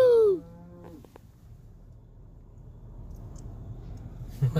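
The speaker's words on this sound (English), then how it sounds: "We're surrounded by cows right now." A cow on a highway lets out a loud, close moo at the start, then the scene falls to faint rumbling background noise with a brief knock near the end.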